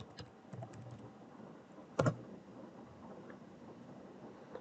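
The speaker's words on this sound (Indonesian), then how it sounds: "kita ketikkan perintah composer" A command being typed at a computer keyboard for a terminal, heard as soft scattered keystrokes with one sharper, louder key hit partway through, close by in a quiet room.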